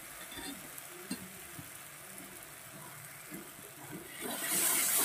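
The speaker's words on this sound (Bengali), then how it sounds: "ব্যাস একটু নাড়িয়ে চাড়িয়ে এটা এবার নামিয়ে নেব।" Mashed fried eggplant bharta with coriander leaves is stirred in a pan: a soft, steady sizzle with light scraping strokes, fairly quiet, and a brighter hiss rising near the end.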